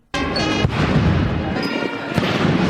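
Cannon fire during a 21-gun salute for Zambia's newly elected seventh president at a state ceremony, heard as a few heavy booms amid a dense, loud outdoor roar.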